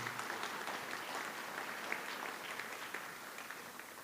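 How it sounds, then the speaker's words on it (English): Quiet, distant audience applause at an annual fashion show award presentation, a steady soft patter of many hands lasting the whole stretch without speech. "Please give her a big round of applause"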